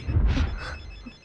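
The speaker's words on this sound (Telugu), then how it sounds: "రింగ్ అవుతుంది." A telephone rings in a Telugu action film scene: a brief, loud ring burst that fades quickly, with no talk over it.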